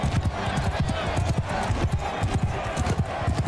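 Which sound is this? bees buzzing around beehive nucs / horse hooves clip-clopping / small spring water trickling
horse hooves clip-clopping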